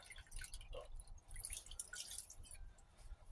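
Filtered water poured into a quarter-cup measure for chocolate muffins, a faint, close trickle with a few drips over quiet room hum.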